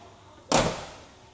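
A classic Super Sport 400 series car door shuts with one sharp, solid slam close by, then a short fading ring, against a quiet background.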